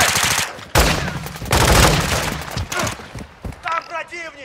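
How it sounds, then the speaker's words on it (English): Bursts of automatic gunfire ring out in a Call of Duty match, loud and dense in several short volleys, with voices talking between and over the shots. "I'm taking fire!"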